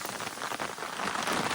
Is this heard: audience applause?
no